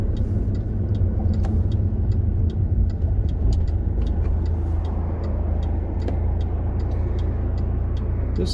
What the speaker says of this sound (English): This is the highway you hear in the background a lot of times